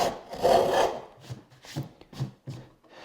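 Hand plane shaving wood along a board edge for a tapered sliding dovetail, a few short rasping strokes, the first longer and louder, then quick regular passes, close and clear with no talk.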